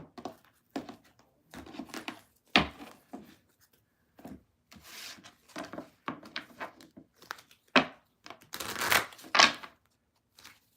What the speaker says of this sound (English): Last deck to shuffle, and then we are moving on to card number 2.